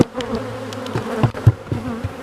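Honey bees buzzing at an opened hive with poor ventilation, a close, steady drone with shifting pitch and a few louder passes of individual bees, with no voices over it.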